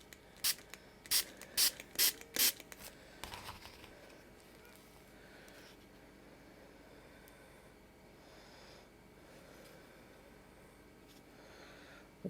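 A spray bottle spritzes water onto a palette of watercolour paints in five quick, sharp, close bursts in a row, followed by near silence.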